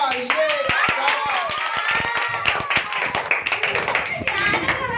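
An audience at a golgappa eating challenge claps in a quick, uneven patter of hand claps, with an excited voice talking over it throughout.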